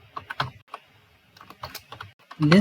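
Typing on a computer keyboard while writing Python code, a run of quick close clicks in short bursts with pauses, ending in a louder cluster of keystrokes.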